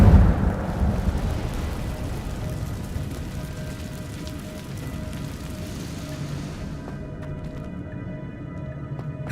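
The Incendio fire spell cast in Hogwarts Legacy gives a loud burst at the start, then a sustained rumbling, crackling roar that fades out toward the end.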